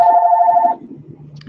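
A mobile phone rings once in a close, loud electronic tone lasting under a second, then cuts off into quiet room noise.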